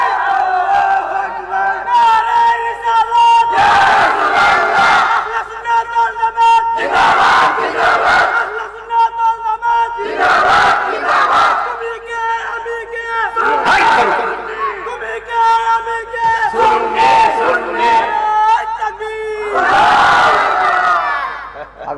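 A crowd at a mosque gathering chants a slogan in loud, rhythmic bursts of many voices, roughly every two to three seconds, with brief pauses between the shouted calls.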